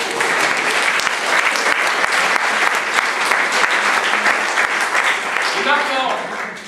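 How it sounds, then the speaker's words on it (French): An audience applauds at a French-speaking gathering: loud, dense, sustained clapping that fills the whole stretch and tapers slightly at the close. "Applaudissez-le!"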